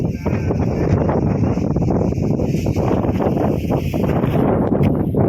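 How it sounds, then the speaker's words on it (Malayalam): Strong wind buffets an outdoor microphone at Ilaveezhapoonchira in Kottayam district, producing a loud, steady, broadband roar that fills the whole stretch with no clear pauses. "കാറ്റ് കാരണം ക്ലിയർ ആവുന്നുണ്ടോന്ന് അറിയില്ല"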